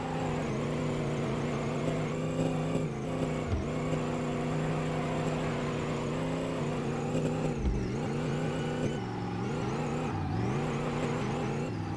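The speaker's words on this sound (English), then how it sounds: "Hear that 373 with the twin turbos full up, baby." A video-game car with a twin-turbo 373 engine revs hard and steadily throughout, its pitch rising and falling with throttle changes and brief dips, loud and close with no talk.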